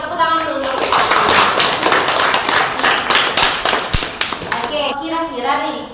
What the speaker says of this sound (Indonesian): Masih ingat tepuk tangan dulu.